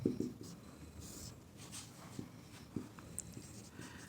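A pen or pencil scratches out a handwritten note in a quiet classroom setting, faint intermittent strokes and taps spread across the moment with no talking.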